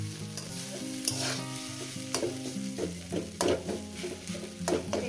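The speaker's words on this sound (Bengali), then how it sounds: "আমি আরও তিন চার মিনিট গ্যাসে ভেজে নেব" Ivy gourd and egg frying in a pan over a medium gas flame, a steady sizzle with repeated scraping stirs and spatula knocks over soft background music.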